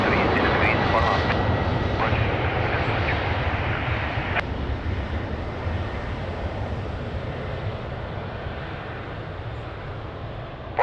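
An airplane on approach to runway 20 at Lisbon Airport gives a broad, continuous engine roar that stays loud and steady, easing slightly toward the end.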